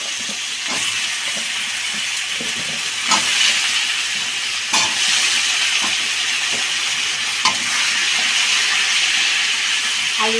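Cut potatoes frying in hot oil hiss loudly and continuously, with occasional soft knocks from stirring.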